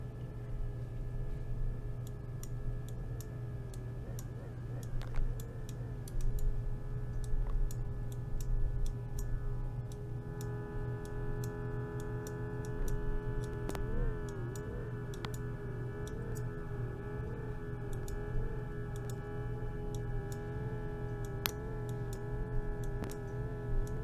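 A sustained synth tone with a slowly sweeping, swirling phaser movement plays alone, steady and fairly loud, with faint ticking clicks scattered throughout.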